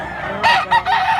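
A gamefowl rooster offered for sale at a market, a short loud crow breaking out close by in two quick bursts over background noise.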